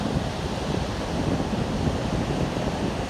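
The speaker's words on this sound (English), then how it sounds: "And I'm hoping that the sound of the ocean" Ocean surf washes onto Aldinga Beach in South Australia, a steady broad roar of breaking waves mixed with wind buffeting the microphone, continuous and fairly loud with no talking.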